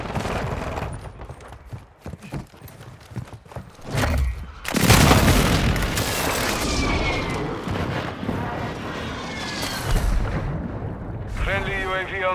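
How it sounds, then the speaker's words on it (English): Precision airstrike explosions crash through a Call of Duty: Modern Warfare II battle, a heavy sustained roar of blasts and debris after scattered gunfire, loud and close, with in-game voices calling out over the combat. "Hostile precision airstrike."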